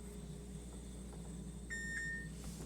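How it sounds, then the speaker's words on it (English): A touchpad electric stove gives a couple of short electronic beeps as it is switched on, faint against a steady kitchen hum. "I'm gonna turn the stove on."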